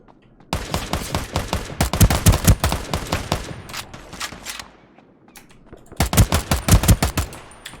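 Gunfire in the Ring of Elysium video game: loud rapid bursts of automatic shots, a long string early, a pause, then another sharp volley near the end.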